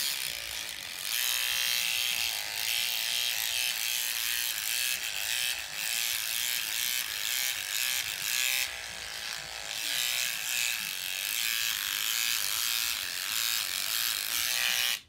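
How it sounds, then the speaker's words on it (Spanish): An electric shaver buzzes steadily and loudly up close as it cuts hair from a doll's head stuck with glue, a continuous whirring grind with small shifts in pitch and no talking. "Yo en este caso voy a utilizar una máquina para rasurar"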